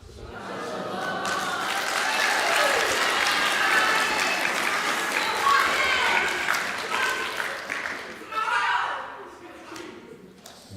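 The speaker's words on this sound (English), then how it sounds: "We don't usually get applause like that." A congregation applauds warmly after a bat mitzvah speech at a Shabbat service. The applause swells and holds for several seconds, then trails off with a brief renewed burst near the end.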